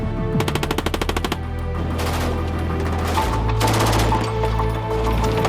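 An FN MAG 7.62mm machine gun fires on a live-fire range, rapid bursts of loud, close shots followed by sustained rolling gunfire.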